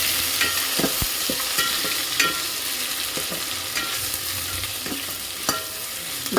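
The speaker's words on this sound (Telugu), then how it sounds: "కొత్తిమీర అల్లం వెల్లుల్లి పేస్ట్ వేసుకొని దీన్ని కొంచెం ఫ్రై చేసుకోవాలి" Ginger garlic paste and coriander frying in a pan with onions for bagara rice, a steady close sizzle broken by repeated scraping strokes of a spoon against the pan.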